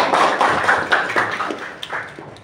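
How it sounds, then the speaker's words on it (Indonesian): A classroom audience claps for a student, a short burst of scattered hand claps with uneven taps that thins out over a couple of seconds. "kasih dulu tepuk tangan dulu"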